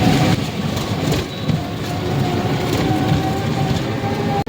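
An auto-rickshaw carrying three passengers toward Kashimpur bazaar gives off a steady, loud engine and road rumble with rattling clatter throughout, and no one speaks.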